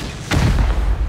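Rocket explosion in the survival game Rust, a single loud, close boom that hits suddenly and rumbles heavily for about a second.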